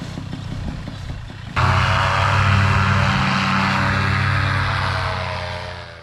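A paramotor engine in a flight simulator game starts abruptly after a quieter stretch, then drones loud and steady with a buzzing propeller tone that eases slightly toward the end.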